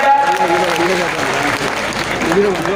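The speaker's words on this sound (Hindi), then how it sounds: "उसके लिए जोरदार तालियां बजा दो भैया" Loud, steady applause from a large crowd at a political rally fills the whole stretch, with a voice talking over the clapping.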